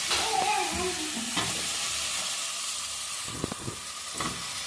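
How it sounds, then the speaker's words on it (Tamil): A spoon stirs eggplant and potato frying in a pan for a Chennai-style dry fish kozhambu, with scraping strokes over a continuous loud sizzle and hiss. "கத்திரிக்காய் உருளைக்கிழங்கு ரெண்டுத்தையும் ஆட் பண்ணுறோம். ஆட் பண்ணி நல்லா கிளறி விட்டுக்கலாம்."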